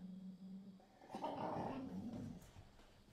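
Low, rumbling growls from the dogs Lycan and Locust squabbling over a bone, a soft whine early, then a sustained snarling growl that fades, fairly quiet and close.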